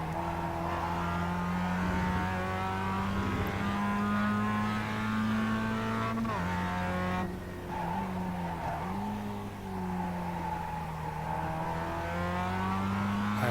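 A Mazda MX5 engine drones steadily as the throttle is fed in progressively out of a turn, pitch dipping and climbing again, with tyre scrub and skidding noise layered over the close, continuous engine tone.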